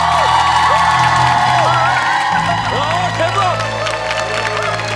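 An audience at a televised trot singing show, Love Call Centre, cheers and applauds right after a singer hits a powerful high note in a song. The roar is loud and dense and holds steady throughout, with tonal sound running beneath it.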